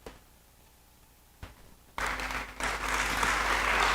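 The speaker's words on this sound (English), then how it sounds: "Please, let's applaud her" Audience applause at a university seminar launch: quiet room noise, then a burst of clapping about halfway through that swells and stays loud to the end.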